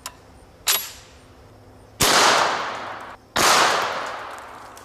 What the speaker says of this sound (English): This is my chrome Tommy gun made by Auto Ordnance, just absolutely beautiful.